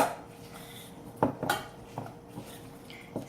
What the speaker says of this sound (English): I'm gonna stir it up and get everything all mixed together here.